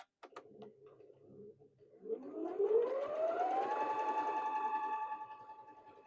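An FYIYUE sewing machine stitches after a few clicks, its motor whirring up in pitch to a steady, fast, close hum for a few seconds before winding down.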